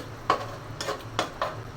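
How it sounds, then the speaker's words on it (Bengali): Mung dal simmering in a pan as a little water is poured in, giving faint sizzling with a few soft stirring scrapes spaced about half a second apart, quiet and close, with no voices. "অল্প করে পানি দিয়ে দিচ্ছি।"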